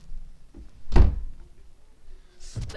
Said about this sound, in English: Close the door, Ollie.